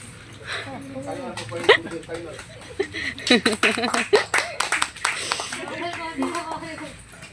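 A few people clap in bursts of sharp, uneven claps mixed with chatter and voices, growing busier in the middle before easing off.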